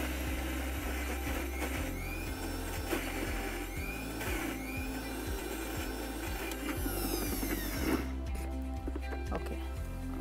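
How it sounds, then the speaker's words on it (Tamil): A wet grinder churns urad dal batter for medu vada, a steady close mechanical whir with a regular rhythmic knocking and scraping beneath it, loud and continuous. "இப்போ திருப்பி இதை அரைச்சிடணும்."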